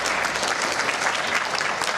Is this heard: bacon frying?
no